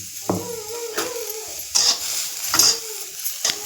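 A medium-sized onion fries in a pan for fried rice, with a spatula scraping and knocking against the pan every second or so over a soft sizzle, close by, with no one talking.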